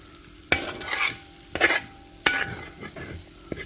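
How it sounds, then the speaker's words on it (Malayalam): Beef fry being stirred in a pan with coriander leaves, four distinct scraping stir strokes with light sizzling between them, close and clear with no talking. "മല്ലിയിലയും കൂടി ഇട്ട് കൊടുത്തിട്ടുണ്ട് ഒന്ന് ഇളക്കി യോജിപ്പിക്കണം"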